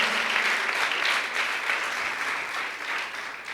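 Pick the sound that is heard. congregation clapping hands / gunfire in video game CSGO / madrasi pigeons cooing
congregation clapping hands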